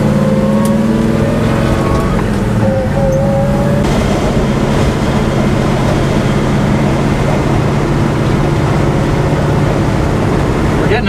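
Muscle car fitted with FiTech Go EFI 1200 HP fuel injection driving on the road, a loud, steady engine drone with deep rumble and road noise filling the cabin throughout.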